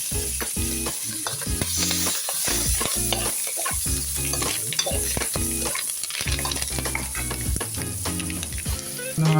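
Dry fish frying in a pan for a curry, a dense continuous crackle and sizzle with rapid clicking spatters and occasional scraping, close and steady throughout.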